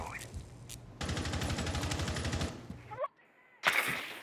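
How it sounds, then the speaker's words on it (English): A sustained burst of rapid automatic gunfire for about a second and a half in Rainbow Six Siege, followed by a brief gap and another sharp volley, with game-like sound effects. "Gunfire from Zofia rains down"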